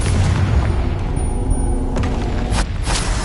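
Explosive spells in the wizarding video game Hogwarts Legacy burst with deep, continuous booming blasts, loud and close, with a few sharper cracks near the end.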